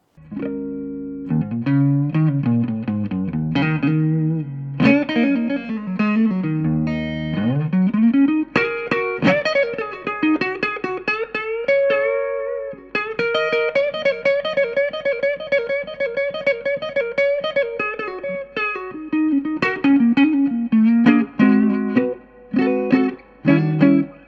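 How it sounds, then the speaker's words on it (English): An electric guitar plays a melodic phrase with sustained, bending notes through a clean Vintage Super Reverb tube amp at gigging volume, rich with reverb and harmonics, no voices. "let's start by hearing the Vintage Super Reverb clean to get an idea how it all sounds"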